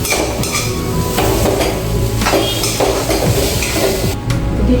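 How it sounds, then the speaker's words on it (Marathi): Sweet potato sautéing in a pan for kheer sizzles steadily while a spoon scrapes and clatters against the metal in repeated stirring strokes, close and fairly loud, with no talking. "दोन तीन मिनिटं आपण मी व्यवस्थित परतून घेऊ"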